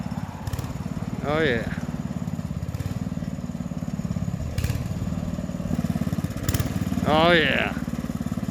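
A Sears Suburban garden tractor with a mid-mount blade runs steadily close by, a continuous droning engine throughout while it scrapes and levels earth, with brief spoken exclamations over it.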